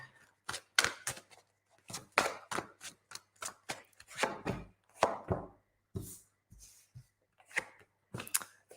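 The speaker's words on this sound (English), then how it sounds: "giving these a really good shuffle for you" Tarot cards are shuffled by hand in a series of crisp, close riffling bursts and soft slaps, coming in an irregular rhythm with short pauses between them and no talking.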